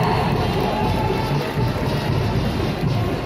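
A large crowd roars and cheers in a dense, loud, continuous wash of noise, enthusiastic applause from many people at a parade of delegations at an Indonesian national Quran recital competition.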